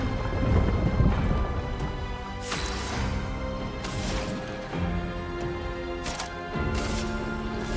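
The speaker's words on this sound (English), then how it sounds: "Thunder!" Thunder and rain in the role-playing game Clair Obscur: Expedition 33, with heavy cracking crashes and booms at intervals over a constant rain wash and sustained musical score.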